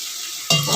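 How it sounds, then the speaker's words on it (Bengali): Spice paste for a home-style chicken curry hits a hot pan and starts frying, a sudden loud sizzle breaking in after a brief quiet stretch and holding steady. "একটু ঢাকা দিয়ে ভাজবো মশলাটাকে"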